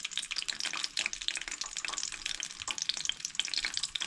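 Garlic fries in a pan for Goan-style chole gravy, a continuous bright crackling sizzle with light stirring taps, moderately close and fairly quiet.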